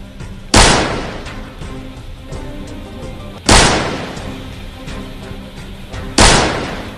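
Three loud bursts of gunfire from a toy AK-47 rifle, each a sharp crack trailing into a rattling burst of noise, separated by short pauses.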